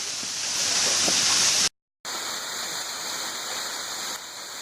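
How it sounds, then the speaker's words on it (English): A man-made waterfall at Serenova Tract near Land O Lakes in Central Florida pours with a loud, steady rushing roar, cut by a brief moment of silence before the constant hiss of falling water resumes. "The only thing I'll say about these falls is that they were man-made."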